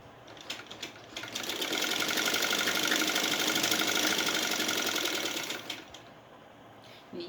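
A sewing machine stitches a salwar in a long continuous run, starting and stopping with short bursts and a steady mechanical whir through the middle, with no speech.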